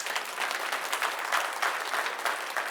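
Church congregation applauding a member named Merrick after a Christmas tree made of gifts is shown, a steady wash of hand claps at moderate distance without voices.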